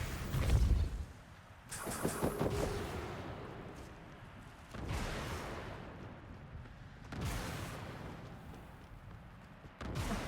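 Repulsor spell cast in Hogwarts Legacy, a series of deep, booming blasts spaced a couple of seconds apart, each with a rumbling decay under a steady background of game sound.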